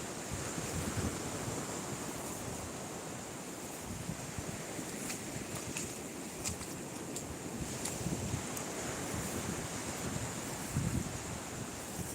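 Steady wash of surf breaking on the shore with gusty wind rumbling across the microphone, continuous and fairly loud throughout.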